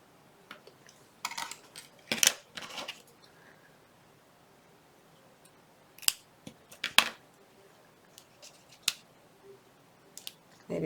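Scissors snip through paper ephemera for a Halloween mini folder, in short crisp clusters of cuts with quiet gaps between them, close by and fairly soft.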